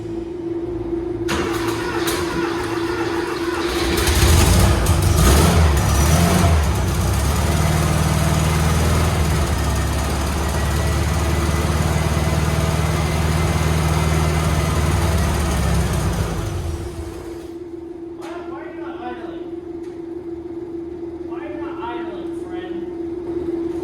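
A modified Porsche 911 hot rod engine runs steadily and loudly for most of the stretch, with a surge in revs early on, before cutting out; people talk over it and afterward.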